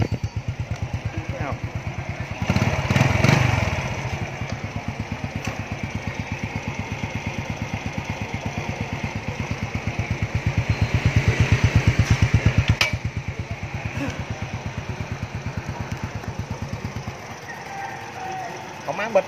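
A motorbike engine idles smoothly while in gear at a Saigon motorcycle shop, a close, steady rapid putter that swells briefly twice, with a voice breaking in at moments.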